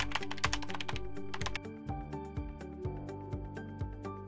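Keys tapped on a computer keyboard while logging into an AI takeoff software account, a quick run of light clicks over a steady background music bed.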